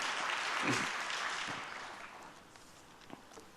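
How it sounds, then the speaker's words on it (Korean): A congregation claps during a Sunday church service, with broad applause that swells at first and then fades to a few scattered claps and small room noises. "여러분 큰 박수로 맞아주시면 감사하겠습니다"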